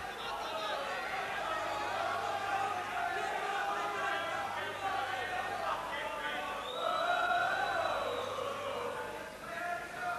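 Boxing crowd at a Wolverhampton arena during round nine of a twelve-round British title fight, a continuous roar and chatter of many voices with occasional shouts swelling, steady and fairly loud throughout.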